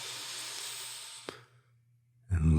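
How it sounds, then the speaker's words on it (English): During a meditation, a deep closing breath exhales as a long airy hiss that fades into near silence, followed by the start of a voice speaking closely. "Let's take one last closing breath here."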